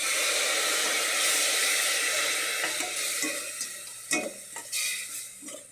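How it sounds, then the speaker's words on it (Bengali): Water poured into capsicum cooking in a hot pan sets off a loud, steady sizzle that fills the first few seconds, then eases into softer frying with a few stirring knocks near the end. "অল্প একটু জল দিয়ে দেবো।"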